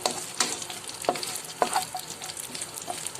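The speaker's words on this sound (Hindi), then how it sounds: "साथ ही ये नारियल मैं फ्राई कर रही हूँ, बस फटाफट इसमें हम फ्राई करके" Coconut frying lightly in a pan for sweet jaggery rice, a close crackling sizzle with sharp spatula scrapes and taps every half second or so, no talk.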